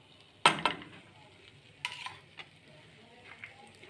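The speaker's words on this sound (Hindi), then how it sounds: "अब इसमें हल्दी डाल दें" Turmeric goes into a frying pan of poha namkeen and is stirred, giving a sharp clink of a spoon against the pan followed by lighter scraping and stirring taps that fade out.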